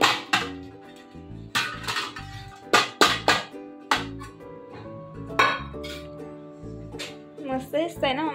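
Dishes and utensils clink sharply while sweet semolina sheera is served into an offering plate in a home kitchen, a string of short bright knocks and taps at irregular intervals, close by, with a voice speaking softly between them.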